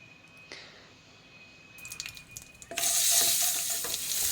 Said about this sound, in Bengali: কড়াইতে নিয়ে নিয়েছি একটু তেল, তার মধ্যে নুন হলুদ দিয়ে আমার ঘরে সামান্য চিংড়ি মাছ ছিল সেটাকে একটু ভেজে নিলাম।